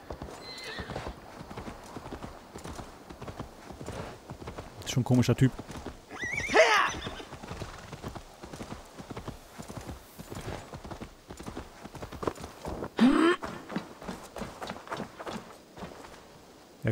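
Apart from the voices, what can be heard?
horse hooves and neighing in a video game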